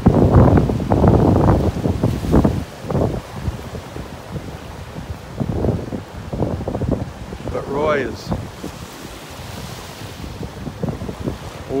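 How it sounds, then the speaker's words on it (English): Wind at the beach in North Naples, Florida, buffeting the microphone in loud gusts over surf, with a brief whistling tone partway through. "That wind makes it feel a little cooler."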